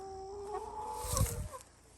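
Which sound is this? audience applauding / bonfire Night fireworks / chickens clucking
chickens clucking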